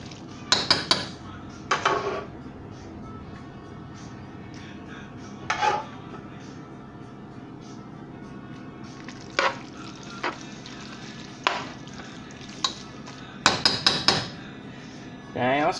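Metal utensil scraping and clanking against a frying pan over high heat while spaghetti sauce and juices cook; sharp clatters come in short clusters over a steady low frying hiss, close and fairly loud, with no talk.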